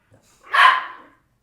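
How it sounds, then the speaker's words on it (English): A single dog barks once, loud and close, after a faint brief sound just before it. "Sorry about my dogs."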